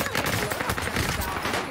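Rapid bursts of gunfire in a shooter video game, with a sniper rifle in play, crackling for under two seconds with faint chatter mixed in.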